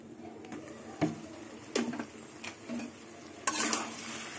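Prawns stirred and fried in a pan for a spicy kasha dish give soft spoon scrapes and clinks against the pan over a faint steady sizzle, with a louder scrape and hiss near the end.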